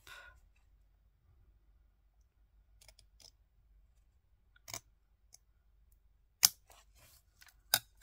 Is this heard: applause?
no